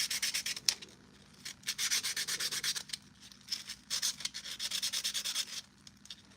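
Rhythmic back-and-forth sanding of a hard Purge Trooper armor piece, raspy scraping strokes in quick bursts with brief pauses, close and fairly loud.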